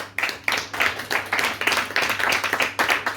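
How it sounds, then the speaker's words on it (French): A small group at a literary event claps steadily for authors, a dense patter of hand claps rising and falling in short bursts, fairly close. "vous pouvez les applaudir"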